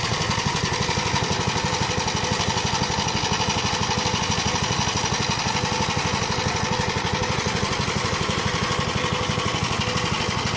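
An old walk-behind tractor engine runs continuously with a rapid, even chugging pulse, loud and close, with no voices.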